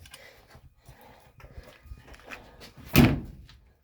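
A door on a 1959 Ford Fairlane Galaxie 500 is worked open with soft clicks and rattles, then shut with a single loud, close slam near the end.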